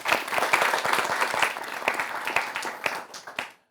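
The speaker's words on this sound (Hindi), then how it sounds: "तालियों से आपका भी स्वागत होना चाहिए।" A studio audience of young people applauds to welcome guests on an Indian news debate show about the Women's World Cup. The clapping is dense and steady, then thins out and stops near the end.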